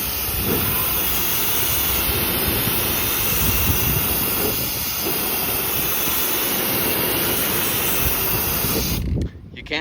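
A pressure washer fitted with an X-Jet tip blasts a deck in a steady, loud, unbroken roaring hiss that cuts off abruptly near the end.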